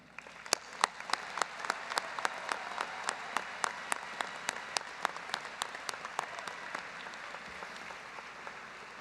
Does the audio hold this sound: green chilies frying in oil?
no